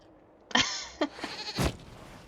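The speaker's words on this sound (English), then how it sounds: "we discovered this man attacking the building with a goat" A goat in Dragon Age: Inquisition gives several short, nasal bleats close up, one longer cry followed by quicker, choppier calls, with no talk over them.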